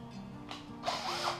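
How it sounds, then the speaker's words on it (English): Drill driving a tap held in its chuck while threading during a hay grapple accumulator build, giving a short whirring run that picks up into a brighter, louder grinding whine, close by. "I very much prefer to do it with a drill."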